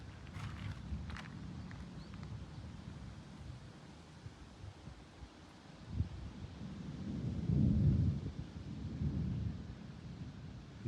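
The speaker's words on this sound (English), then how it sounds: "These thunderstorms out here are no joke." Thunder rolls through a Wyoming thunderstorm as a low, distant rumble. It swells to its loudest in the second half, then fades slightly. There is no talking.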